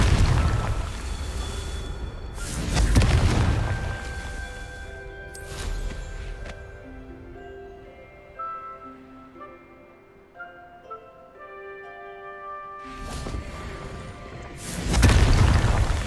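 Booming fire-spell explosions from the video game Hogwarts Legacy burst loudly at the start, middle and end, with a tonal musical score ringing between the blasts.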